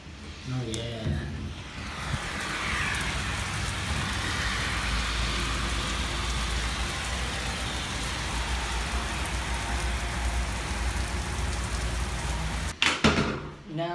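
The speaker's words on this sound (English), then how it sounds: "I'm so happy that it's raining out" Rain falls outside a workplace, a steady, close, broadband patter with a faint engine-like rumble beneath, lasting throughout before a brief clatter near the end; someone talks over the start.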